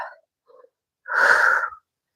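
One sharp, breathy inhale during a yoga cobra push-up in a calisthenics routine, close and fairly loud, lasting under a second, preceded by a couple of faint soft breath sounds.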